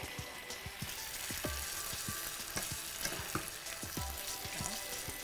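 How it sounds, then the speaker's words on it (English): Shrimp, vegetables and pasta sauté over high heat in a steady, fairly quiet sizzle, punctuated by repeated soft knocks and scrapes of stirring. "we're gonna add that pasta into our sauteed shrimp and vegetables"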